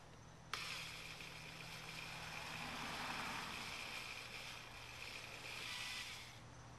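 A power drill with a larger bit whirs continuously for about six seconds while drilling a hole in a car during a throttle controller install, a harsh, close, high-pitched grinding that starts abruptly and holds steady before easing off.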